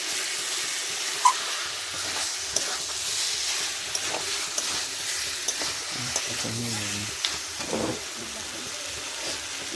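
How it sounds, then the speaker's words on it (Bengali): Biryani masala sticking slightly in a pot while it is stirred: a continuous close sizzle and hiss, broken by repeated scraping strokes of the spoon and small clinks. "ভালো করে নাড়তে হবে, একটু লেগে যাচ্ছে আমার মশলাটা"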